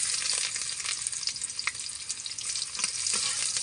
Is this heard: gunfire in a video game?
no